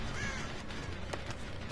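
Crows caw in the Dead by Daylight horror game, a couple of harsh calls over a steady, dense background ambience.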